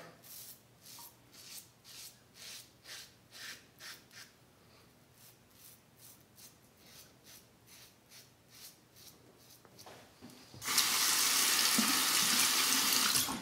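Tap water runs hard and loud for the last few seconds of a wet shave with a Merkur 47C safety razor, after a stretch of soft, rhythmic scraping strokes.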